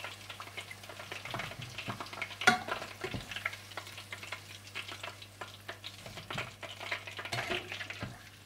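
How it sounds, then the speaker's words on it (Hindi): Chicken fingers deep frying in oil, a steady soft sizzle with scattered crackles and occasional stirring clatter, close and moderately quiet throughout. "इसी तरह से आप सारे चिकन फिंगर्स को डीप फ्राई करके निकालते जाएं।"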